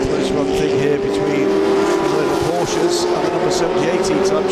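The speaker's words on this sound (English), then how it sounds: "Close run thing here between the Porsches and the number 78 E-Type Jaguar." Vintage racing cars, Porsches and a number 78 E-Type Jaguar, run close together at the Dubai GP Revival, their engines a loud steady roar that holds throughout while commentary talks over it.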